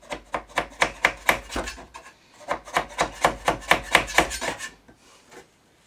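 Old veneer being scraped off a Bush VHF 41 radio cabinet in about twenty quick rhythmic rasping strokes in two bursts, close and crisp, ending in quiet.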